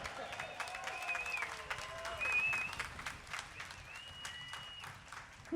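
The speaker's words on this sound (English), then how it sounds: "Yes, we can all clap." An audience applauds at the Ukulele Hall of Fame ceremony in Hawaii. Faint, steady clapping with a few whistles and cheers rising above it, and voices mixed in.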